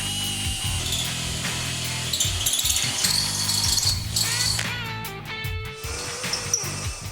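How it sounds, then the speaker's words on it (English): A power drill spins a step drill bit through metal during radiator mounting work on a Ford Ranger prerunner with a Coyote V8, a steady motor whine with bursts of grinding and a pitch drop near the end. "Doing it with a step drill bit just makes it a whole lot quicker."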